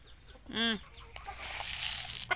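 A Bisaya breeder chicken gives a short, close harmonic cluck-call, then quieter scratchy rustling and faint background noise from the pen.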